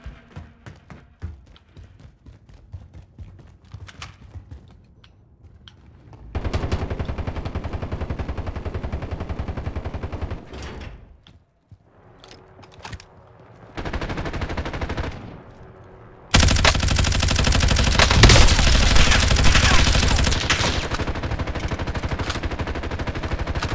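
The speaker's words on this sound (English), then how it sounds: "Setting a decoy." Decoy grenade in Call of Duty: Warzone battle royale sets off bursts of simulated gunfire, loud sustained rattling volleys in several stretches with brief gaps, the last and heaviest run continuing to the end.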